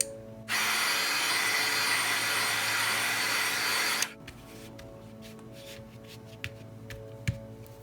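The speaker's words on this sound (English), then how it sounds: "We're just going to take our heat embossing gun and quicken that paint" A heat embossing gun blows over wet watercolor paint, a loud steady fan whoosh that switches on abruptly, runs for about three and a half seconds, then cuts off, leaving faint handling taps and clicks.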